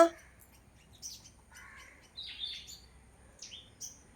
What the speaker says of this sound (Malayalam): ഒരുപാട് കിളികൾ വരുന്നുണ്ട്